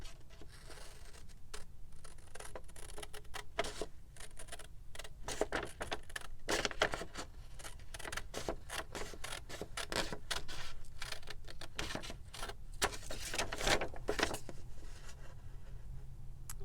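Paper edges being trimmed with scissors, a quiet run of snipping and rustling close by with a steady faint hum underneath and no talking.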